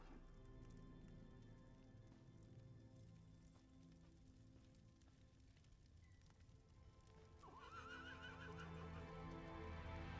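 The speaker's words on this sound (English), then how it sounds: "Hearing horse whinnying." A horse whinnies in a video game at low level over a steady background hum, followed by a brighter, louder wavering whinny near the end.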